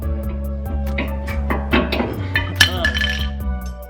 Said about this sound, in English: So now I'm just gonna go ahead and pull my calipers off.